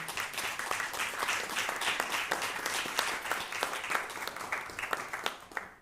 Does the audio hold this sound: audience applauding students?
yes